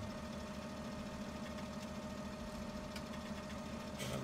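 A tractor engine idles in the video game Farming Simulator 17, a steady, even mid-pitched rumble with a regular pulsing beat that continues unbroken throughout, loud and close with no talk.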